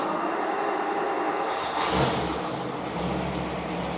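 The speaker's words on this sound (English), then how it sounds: "Well, let's just hear this car start up." A 1956 Ford Thunderbird with a 312 V8 cranks and fires at close range, a brief surge at the catch settling into a steady, rumbling idle.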